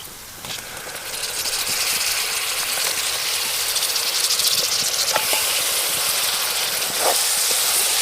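Raw, cleaned prawns go into hot oil in a pan with turmeric for a prawn curry. After a brief quiet start, a loud, steady hissing sizzle rises and holds, with a few faint clinks and no talking.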